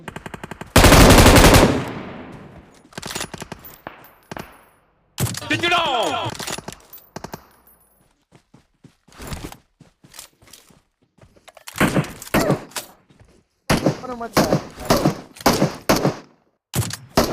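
Rapid automatic gunfire from the battle royale game BGMI comes in several bursts of sharp, rattling shots separated by short pauses, with a loud opening volley and quieter intermittent thuds between.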